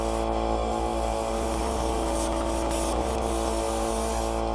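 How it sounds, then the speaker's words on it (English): Airbrush spraying paint onto a model Panzer I Breda tank, a steady close hiss with broadband texture running continuously, alone without talk. "You can just put them straight into the airbrush and start spraying"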